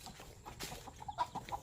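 Chickens cluck softly in the background with brief, scattered calls, some of them hens with chicks. The sounds are faint and come from outdoors.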